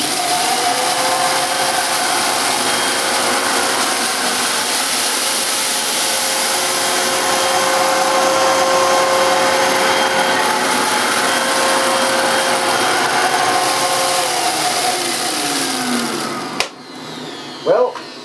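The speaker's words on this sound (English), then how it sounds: "press the big orange power button and pass the Hoover Vortex backwards and forwards through all this dirt" A vintage Hoover Vortex bagless upright vacuum cleaner runs over dirt on the floor, with a loud, steady motor whine and airflow roar that holds almost throughout, then cuts off near the end with a few clunks.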